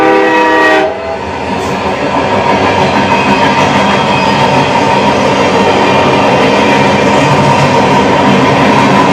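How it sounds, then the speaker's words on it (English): A train pulling away, starting with a brief horn blast and then a loud, steady rumble and clatter of wheels on rails that carries on close by for several seconds. "And that train's going to take off."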